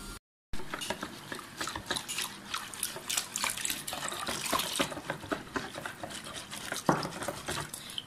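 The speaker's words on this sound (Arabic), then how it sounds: "Là je vais rajouter l'eau petit à petit." Water trickles and splashes steadily as it is poured little by little into a bowl of chickpea flour batter for a savory flan, a continuous close, moderately loud pouring sound heard alone with a brief gap at the start.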